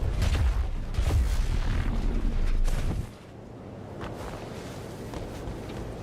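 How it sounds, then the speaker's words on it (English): Video game explosions, loud deep rumbling booms in the first half that give way to a quieter, lingering roar with a few distant thuds. "I thought I heard some explosions."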